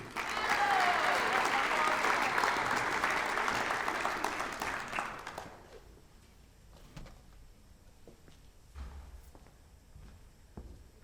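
Audience applause at a high school honors and awards ceremony in Cedar Falls, a dense, loud burst of clapping that holds for several seconds, then fades into scattered claps and faint room noise.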